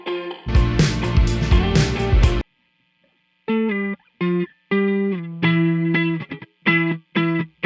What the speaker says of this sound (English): basically an slap echo effect that I used to create that kind of old-timey vibe to my electric guitar